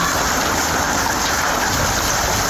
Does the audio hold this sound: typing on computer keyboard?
no